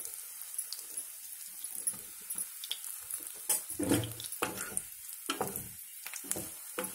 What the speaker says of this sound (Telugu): వీటిలో ఈ మనం ఈ బ్రెడ్ ముక్కల్ని లైట్గా వేయించేస్తే సరిపోతుంది